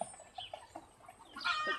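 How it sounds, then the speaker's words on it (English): Chickens and a rooster clucking on an egg farm in Hagerman, Idaho, with soft, scattered clucks and chirps at moderate distance, growing a little busier near the end. "the king of the roost, our big rooster"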